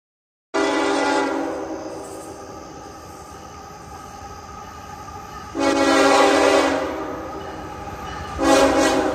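A freight train rumbles past steadily while its horn blares loudly in three long blasts, the last starting near the end.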